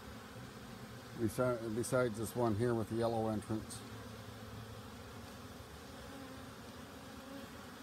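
Honey bees crowd around a busy hive entrance in an apiary, a soft steady buzzing hum running beneath someone talking nearby.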